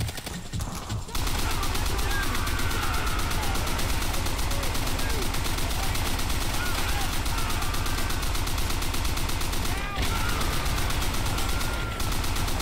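Rapid, continuous machine gun fire in the World War II shooter game Call of Duty: World at War rattles nonstop for over ten seconds, loud and dense, with game voices mixed underneath.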